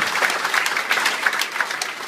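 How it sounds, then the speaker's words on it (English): A live audience claps together on request, a continuous dense patter of many hands at moderate loudness with faint rhythmic accents and no voices on top. "Everybody show me some clapping."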